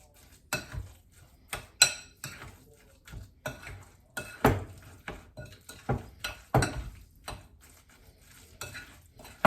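A utensil stirring a salmon patty mixture of egg and breadcrumbs, giving repeated close clinks and scrapes against the bowl in an uneven, energetic rhythm with no talk.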